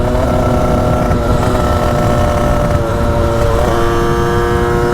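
A Derbi 70 motorcycle with MK barode exhaust buzzes loudly and steadily close by during wheelie practice, its engine note holding high with slight pitch shifts as the throttle varies.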